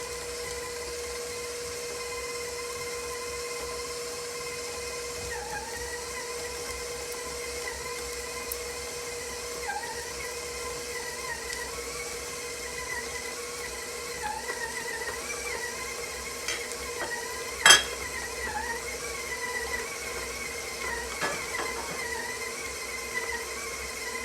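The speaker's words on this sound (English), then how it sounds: "So I will stop my mixer" An electric mixer beating softened cream cheese cut into pieces, a steady whirring drone throughout with small fluctuations and one brief sharp knock near the end.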